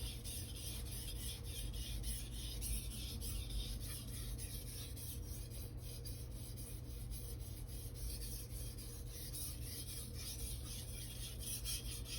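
A Blue Super steel 240mm gyuto knife is sharpened on Naniwa whetstones, giving a steady, close, gritty rasping of back-and-forth strokes that runs continuously with no talking.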